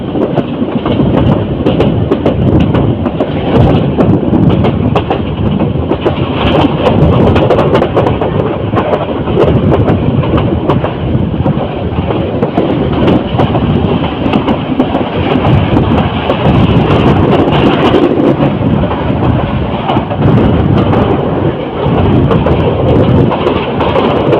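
Titas Commuter train no. 35 running at speed past the outer of Bhairab Bazar railway junction, a loud, steady rumble with continuous clickety-clack of wheels on rails and some wind buffeting close by throughout.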